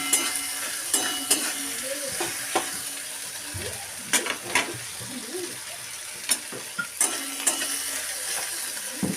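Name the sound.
tomatoes and spices being fried and stirred in a pan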